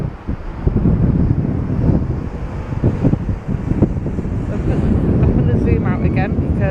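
Gusty wind buffets the microphone in a steady low rumble throughout on the North Shore promenade in Blackpool, with a voice talking over the blustery noise.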